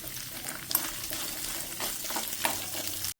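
Fenugreek seeds and red chillies roasting in a pan: a soft, steady sizzle and crackle with scraping stir sounds, close and quiet, no talk.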